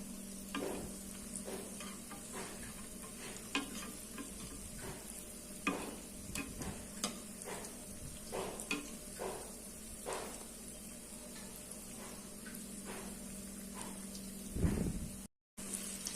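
Traditional sweet suyyam dumplings fry in hot oil with a steady, close hiss and sizzle, broken by scattered clicks and scrapes of stirring, with no voices.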